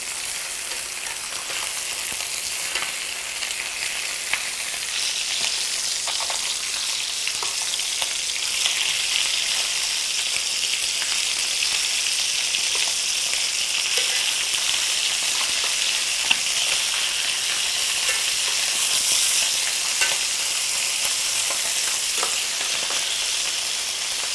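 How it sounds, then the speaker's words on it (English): Chicken thighs sizzle and crackle in a hot pan, a steady, close frying hiss lasting the whole stretch with no talking. "So while my chicken thighs are sizzling away"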